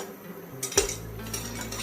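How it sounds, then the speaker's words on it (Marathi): Peanuts roast in a pan for chikki, heard as a single sharp metallic clang of a utensil on the pan followed by a faint rustling stir, close by and without speech. "आता शेंगदाणे खमंग भाजून घ्या"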